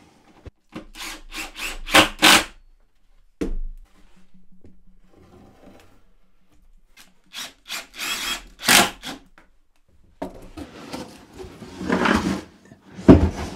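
Wooden pieces of under-drill storage are screwed into place: bursts of woody scraping and rubbing come in clusters, with quieter handling and a faint low hum in the pauses, close up with no talking.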